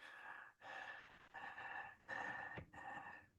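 A voice imitates the noisy inspiratory breathing heard in multiple system atrophy, producing about five harsh, wheezy in-breaths with short pauses between them, close and fairly loud.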